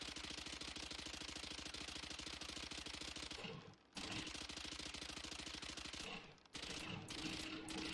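Rapid automatic gunfire from a 30-round Valorant rifle on primary fire, a fast, even stream of loud shots sustained for several seconds, broken by two brief pauses before resuming.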